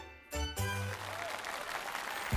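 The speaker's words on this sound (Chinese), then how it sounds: "掌声鼓励。" A studio audience at a children's television quiz show breaks into applause right after a short musical sting, a dense, even patter of clapping that carries on to the end.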